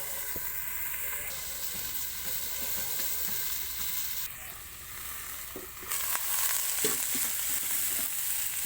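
Vegetables with fish head cooking in a covered pan for a dish with Malabar spinach, giving a continuous soft sizzle and hiss with a few faint clinks. The sound becomes louder partway through.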